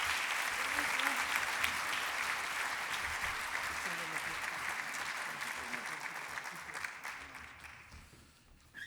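A crowd at a Fullerton State of the City 2022 event gives the mayor a long, full round of applause, dense and steady before tapering off near the end, with some voices mixed in.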